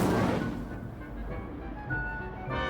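Incendio fire spell cast in Hogwarts Legacy, a burst of whooshing flame and rumble that hits hard at the start, then fades into a lower crackling tail over a few seconds.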